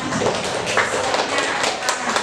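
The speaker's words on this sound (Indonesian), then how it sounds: "Iya, tepuk tangan." Brief burst of dense, even clapping from a group of teachers at a poetry training session in a classroom, steady across the clip with faint voices underneath.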